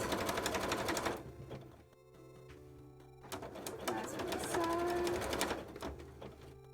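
A sewing machine stitches fabric for a cosplay piece in quick rattling bursts, stopping briefly partway, close and fairly quiet, with faint squeaks as the fabric is handled.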